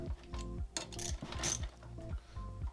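Ratchet wrench with a 10 mm socket tightening bolts on a bicycle wheel sprocket, a series of quick close clicking ratchet strokes in short bursts, with a few brighter metallic ticks, no talking.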